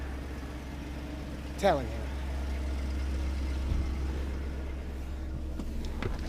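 A 2001 BMW E38 740i M Sport with 251k miles idles with a steady low hum, while someone talks over it nearby.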